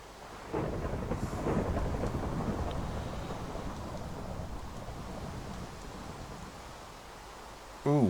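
Video game rain pours steadily under rolling thunder, with a loud thunder crack starting at the end; no talk.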